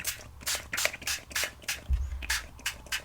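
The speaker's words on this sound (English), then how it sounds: "First, I want to just spritz our paper, and we're going to add our spray stain." Repeated short hissing bursts of a spray bottle spritzing spray stain onto paper, about eight quick spritzes in a steady rhythm, close up, with a soft thump partway through.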